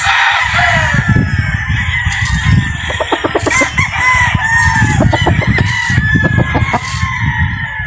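Boston Yellow Legged Hatch chickens on a farm crow and cluck loudly and continuously, with overlapping calls from several birds close by.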